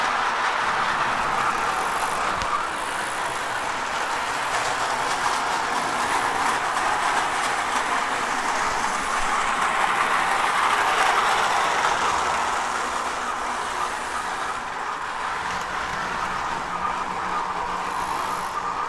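An HO scale model train runs steadily along its track, a continuous close mechanical whir and rattle with faint clickety-clack, holding even in level for the whole stretch with no talking.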